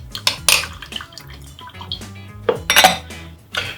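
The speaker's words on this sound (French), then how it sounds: "Je mélange le lait." Milk is stirred together with cream in a pot while making a chocolate ganache. Irregular metallic clinks of a utensil against the pot mix with soft liquid swishing, close and fairly loud, with no talk.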